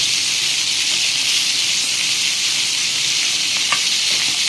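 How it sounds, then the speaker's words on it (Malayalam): Chicken pieces frying in a pan for a North Indian chicken curry give a loud, unbroken hissing sizzle, close up and steady throughout, with a faint clink near the end and no voices. "ഏകദേശം 5 മിനിറ്റ് നമ്മളിങ്ങനെ ഫ്രൈ ചെയ്യണം."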